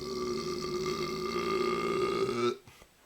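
A man lets out a long, loud, resonant burp lasting over two seconds, close to the microphone, cutting off abruptly into quiet.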